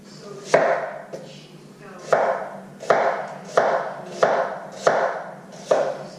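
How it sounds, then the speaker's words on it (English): Kitchen knife chops onions into half-moon slices for pulled pork, striking the cutting board in about eight evenly spaced, close, crisp thuds. "I'm just trying to cut some onions"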